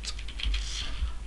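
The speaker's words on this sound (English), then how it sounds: "we type in artwork" Quick run of keystrokes on a computer keyboard, close and crisp, a short burst of typing with no voices.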